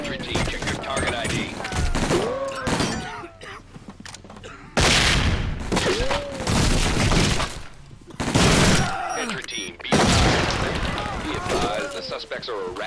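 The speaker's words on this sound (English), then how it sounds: "Suspects are erratic and shooting each other." Heavy gunfire in a tactical shooter game set in a nightclub, suspects firing on each other: repeated loud bursts and booming volleys, some near and some more distant, broken by short pauses, with voices talking throughout.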